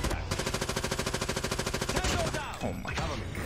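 Video game automatic gun firing a fast, steady stream of loud close shots for about two seconds, then stopping, with brief game sound effects and voices after the burst.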